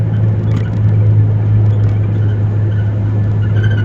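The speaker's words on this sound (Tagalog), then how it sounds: "ayan may traffic mga idol nandito na ang traffic" Steady low rumble of road traffic heard from inside a moving car in heavy traffic near Sharjah, a constant droning hum with faint mechanical noises and no talking.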